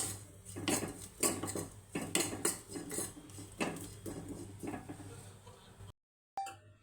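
Garlic chutney mixture stirred in a pan with rhythmic, repeated scraping strokes of a spoon against the metal, fairly close, before the sound cuts out briefly and returns with a light clink.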